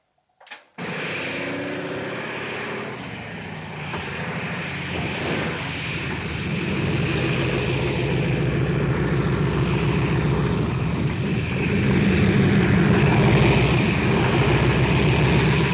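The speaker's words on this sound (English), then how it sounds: "Group Captain Attalus plane coming in." A propeller-driven airplane comes in to land at an airfield, its engine drone loud and close, steady and gradually swelling over about fifteen seconds after a brief sharp knock at the start.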